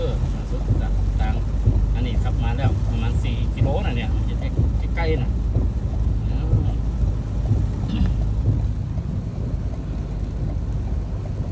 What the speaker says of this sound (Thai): อันนี้น้ำกำลังไหลมาก